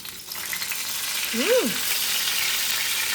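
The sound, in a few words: frying eggplant in oil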